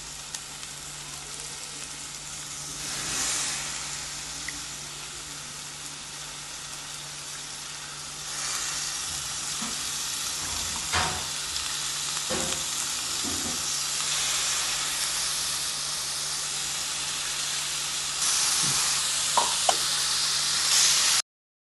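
Mutton keema frying in a pan with softened methi leaves, a steady loud sizzle and hiss with occasional stirring knocks that grows fuller toward the end.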